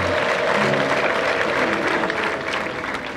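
A congregation applauds steadily during the installation ceremony of a bishop of the EAR Diocese of Shyogwe, with dense sustained clapping filling the whole stretch and a faint tonal murmur of voices beneath.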